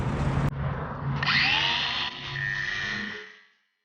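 A loud power tool whines and grinds through the metal bedside of a 2016 Chevy Silverado Z71 in one continuous cut, its pitch shifting as it bites, then winds down to silence.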